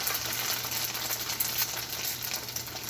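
Food fries in butter in a pan over medium-low heat, giving a gentle, steady sizzle with faint crackles close by and a low background hum, and no one speaks.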